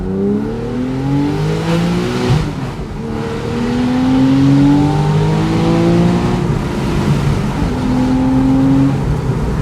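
A Porsche 911 Carrera S (991.1) engine rumbles and revs steadily, with rising and falling exhaust burbles on downshifts, loud and close for the whole stretch.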